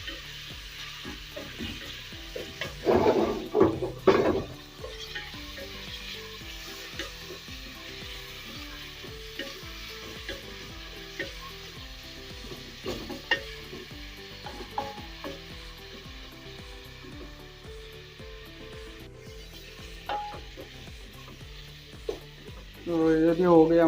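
Ginger and garlic paste sizzles in a hot pan for a meat curry with taro root, with a loud burst of frying early, then a steady soft crackle and occasional stirring scrapes, and a sharp clatter near the end.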